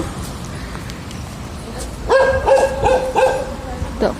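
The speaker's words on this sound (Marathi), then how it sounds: "कुत्रे भुकायला लागलेले बा" After a quiet stretch, a dog starts barking in a quick series of yaps, fairly close, over low outdoor background noise on a road in Nashik.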